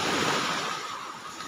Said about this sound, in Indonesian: Ombak-ombak baros.